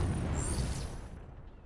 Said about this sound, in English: Just a bunch of explosions going off behind us.